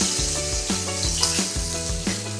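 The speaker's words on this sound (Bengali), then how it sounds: "আমার মাছ ভাজাও হয়ে গেছে" Catla fish fries in hot oil with a constant close hiss of sizzling, while a melodic musical backing plays over it.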